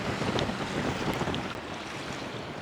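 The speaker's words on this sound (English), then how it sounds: "We've now got 27, 28 knots of wind and starting to come up against the tide" Strong 27 to 28 knot wind blowing over a boat lying at anchor in Poole Harbour against the tide, a loud continuous roar and buffeting on the microphone, with water sloshing underneath and no talking.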